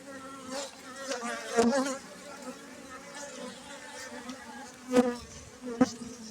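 A steady, close buzzing of honeybees at a hive, with a few louder swells as single bees pass near.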